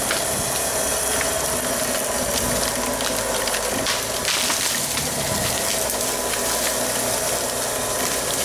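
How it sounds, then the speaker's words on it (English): A rear-mounted winch hauls a hung-up tree straight down to the ground, giving a steady mechanical grinding and ratcheting with creaks and rustling that run unbroken through the whole stretch, with no talk. "While we are here with the winch, I'm going to go ahead and see if I can't pull that hung up tree straight down on the ground"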